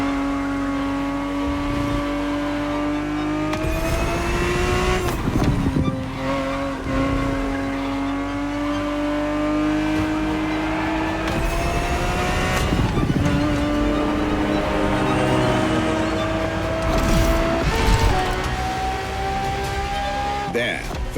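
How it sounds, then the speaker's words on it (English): A Ferrari 365 GTB4 engine races in the video game The Crew Motorfest, loud and close, its pitch rising through each gear and dropping at every shift, with tyre squeal now and then. "365 GTB4 is the perfect vehicle for you to experience Ferrari racing as it felt back in the 70s"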